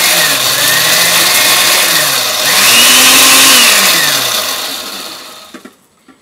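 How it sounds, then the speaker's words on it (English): A blender whirs loudly on high, its motor pitch rising and falling as it churns, then cuts off abruptly with a couple of small clicks. "you blend that on the highest setting"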